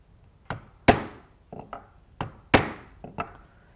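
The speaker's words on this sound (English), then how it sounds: "I'm going to widen the hole with my drive punch that's for the line 24 snap" A drive punch is struck with a mallet to widen a hole, set on a cutting board, in six sharp close knocks falling in two groups of three, each hit followed by a brief rattle.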